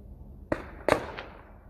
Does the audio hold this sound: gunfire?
yes